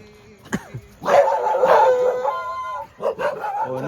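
Dogs in a residential colony bark, whine and break into a drawn-out howl, close and loud, in a short burst of excited calls with no speech.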